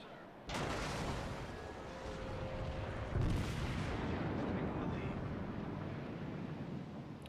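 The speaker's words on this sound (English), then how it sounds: "I have 9 guns and only 1 shell hits" Battleship main guns fire in World of Warships, with a loud boom at the start and a second heavy blast midway over a constant rumble of wind and engine noise.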